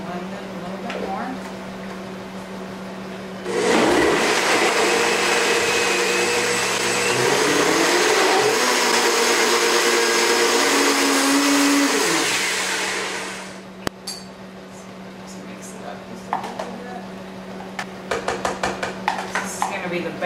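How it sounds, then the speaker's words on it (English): Blender whirring as it purées avocado for a raw pizza base, a loud steady motor drone of about ten seconds that starts abruptly, then winds down into clinks of kitchenware. "Add the other avocado. Blend it a little bit more."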